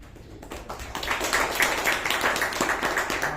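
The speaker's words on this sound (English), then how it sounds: "Round of applause to the speaker and the evaluator" Scattered clapping at a Toastmasters club meeting, honouring a speaker and evaluator; a small group of hands beats fairly close and moderately loud for a few seconds, thin rather than a full ovation.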